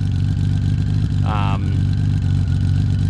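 A motorcycle engine idles through Mark T exhaust pipes with the baffles installed, giving a steady, close, low rumble with a brief higher whine partway through.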